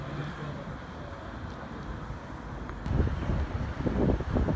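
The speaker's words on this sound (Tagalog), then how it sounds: "napaka sobrang mahangin ang hangin" Strong wind in Dubai buffets the microphone in a steady low roar, growing gustier and louder toward the end.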